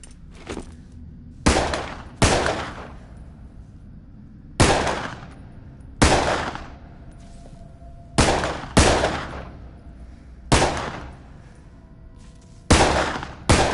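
Loud, sharp gunshots ring out in a VR zombie video game, arriving singly and in quick pairs with short decaying tails and brief quiet gaps between bursts.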